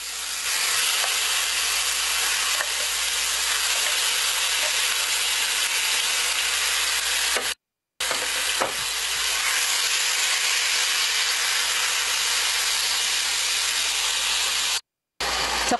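Chicken frying in very hot ghee for tikka masala, a loud, constant close hiss and sizzle that runs on steadily, broken by two short gaps.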